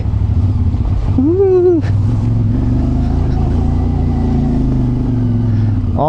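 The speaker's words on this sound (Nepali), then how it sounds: "नाइस वाटर क्रसिङ छ" A motorcycle engine hums loud and steady throughout while crossing water, with a brief rising whine partway through and a voice barely heard.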